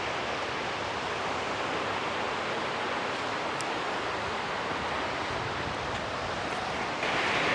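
A river in Tennessee rushes past the far end of an island, a steady, dense wash of flowing water that holds even from start to finish, with no voices.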